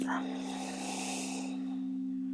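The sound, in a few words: strong full yoga breathing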